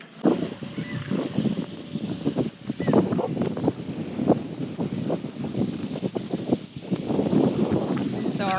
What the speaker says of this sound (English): we have a bunch of things blowing in the wind